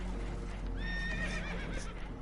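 Spooked horses whinny and neigh in the video game Red Dead Redemption 2, several shrill rising calls close by over a steady rumbling wash of water and boat noise, with faint hoof clatter.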